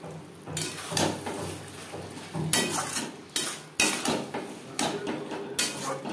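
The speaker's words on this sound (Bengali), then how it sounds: "বেশ ভালো করে মিক্সড করে দেবো" Gobindobhog rice being stirred into a Bengali fish curry with potatoes in a pot, repeated scraping and clanking of a spoon against metal in uneven strokes, close and moderately loud.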